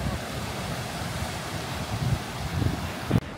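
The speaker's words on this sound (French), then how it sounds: "Je sais pas si on m'entendra avec le vent." Wind sweeps across an open Faroe Islands landscape on the road toward Saksun, a steady, dense rushing roar with a few low buffeting thumps near the end.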